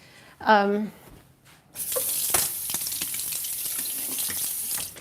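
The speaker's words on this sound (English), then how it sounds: "You rinse out everything with almost boiling water" A brief voice sound, then near-boiling water rushes steadily from a tap, splashing continuously into a sink.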